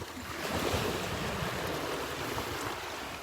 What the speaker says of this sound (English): Let the waves push them around.